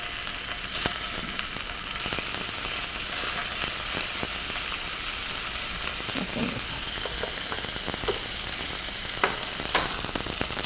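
Beef searing in a generous layer of oil in a preheated frying pan, a steady close hiss of sizzling with scattered pops and crackles throughout, no voices.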